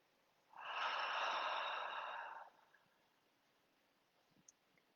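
One long, steady out-breath through the mouth in a guided meditation, a smooth breathy rush of about two seconds, heard up close, then fading into near silence.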